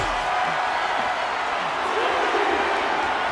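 Large arena crowd at a WWE Survivor Series wrestling event, a steady roaring wash of cheering with a commentator talking over it.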